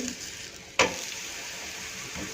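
Bajri palak methi thepla, a Gujarati millet flatbread with spinach and fenugreek, roasting with oil on a griddle: a sharp hiss bursts in, then settles into a steady sizzle, close and without talk.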